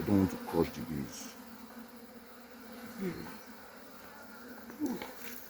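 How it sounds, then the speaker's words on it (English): Honeybees buzz around an open hive during an inspection with a smoker, a soft, continuous drone close by, with a few brief louder bursts as bees pass near. "I don't want to crush the bees."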